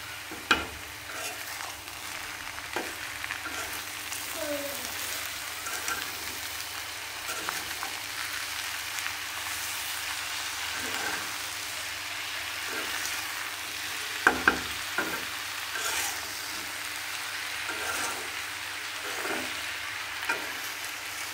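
Kajoli fish and bitter gourd fry in a pan with a steady, even sizzle, occasional clicks and stirring taps over a constant crackling bed.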